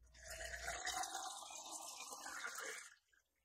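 Cold water pours steadily onto peach sports drink powder in a container, a continuous hissing splash for about three seconds before cutting off.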